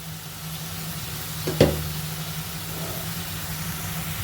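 A spiced tomato curry base with salt and turmeric sautés in oil, giving a soft, steady sizzle over a low background hum, with a single spoon knock partway through.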